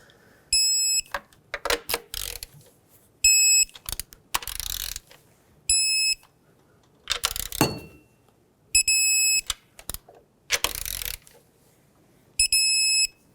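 A ratchet snugs valve cover bolts on a 2013-2020 Nissan Pathfinder 3.5L V6, giving several close, quick bursts of clicking separated by pauses and light handling noises.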